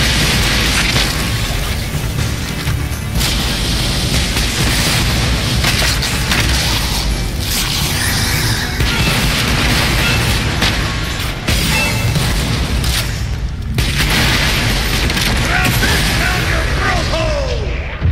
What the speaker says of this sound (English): Magic missile!